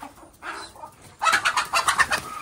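Hens and a rooster clucking and calling inside a brooder with chicks, a burst of several close, loud squawks and clucks in quick succession.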